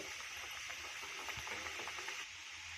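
Modaks and a kadubu frying in hot oil over a low flame, a steady close sizzle with light bubbling crackle running continuously throughout.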